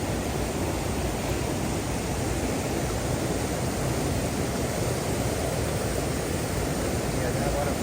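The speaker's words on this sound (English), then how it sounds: "Yeah, that waterfall there." Steady broadband roar of a waterfall along the Appalachian Trail in Massachusetts, loud and unbroken from start to finish, a constant rushing wash of falling water with no pauses.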